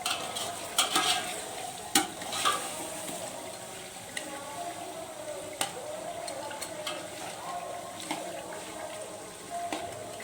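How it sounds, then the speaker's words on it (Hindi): Chicken meat fries in a pot for village-style chicken pulao to cook off its released water, giving a steady sizzle with scraping stirs and occasional clinks from a utensil, close and moderately loud, without speech. "गोश्त जो पानी छोड़ती है इसको थोड़ा सा भून लेते हैं पानी खुश्क करने के लिए।"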